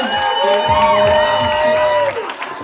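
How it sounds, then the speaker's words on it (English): Wedding guests at a first dance cheer and applaud in a loud crowd burst, with whoops and sustained tones from the hall lasting throughout. "big round of applause for Dr. and Mrs. Jonathan Ramin."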